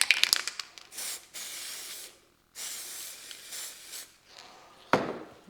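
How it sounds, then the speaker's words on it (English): Several long hissing bursts from an aerosol can of layering spray fixing static grass on model railway scenery, broken by short pauses, close to the microphone, with a few light clicks and taps in between. "locking it in with the layering spray again"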